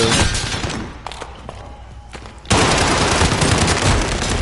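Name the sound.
gunfire in the video game Warzone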